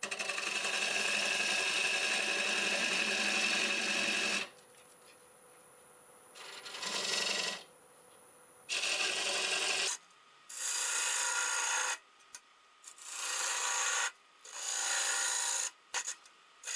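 A 1/2 inch bowl gouge scrapes and rasps against spinning live-edge magnolia wood on a lathe, in bursts of hissing cutting that stop and start repeatedly between short pauses.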